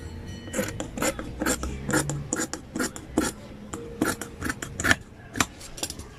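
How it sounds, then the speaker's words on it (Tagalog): Scissors snipping through blouse fabric, a string of quick sharp crisp cuts in an uneven rhythm, close and fairly quiet with no talk over them. "Saka natin gupitin."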